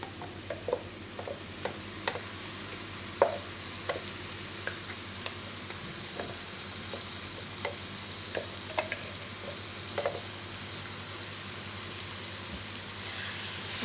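Tomato and Kashmiri chilli puree stirred in a pan, soft scraping strokes over a continuous low sizzle with occasional light taps, close by.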